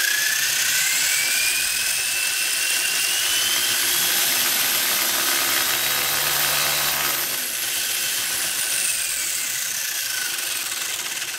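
An electric motor in a 1/10 scale RC car on a dyno spins up to about half power, a continuous high-pitched whine with rising and falling tones that holds loud and steady throughout, with no talking.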